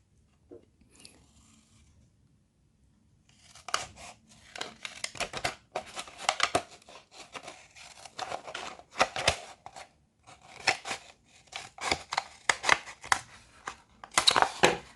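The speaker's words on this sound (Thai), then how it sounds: "เราก็ตัดตามรอยนั้นได้เลยค่ะ โดยใช้กรรไกรนะคะ" Scissors cut through a plastic water bottle being made into a face shield, producing a quick run of crisp crunchy snips close up after a quiet start.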